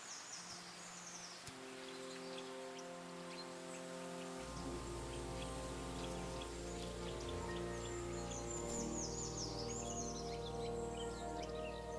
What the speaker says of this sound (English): This damn rain.